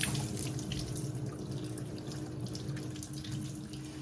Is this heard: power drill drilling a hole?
no